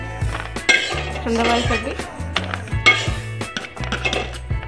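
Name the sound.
roasted coconut tipped from pan into a metal plate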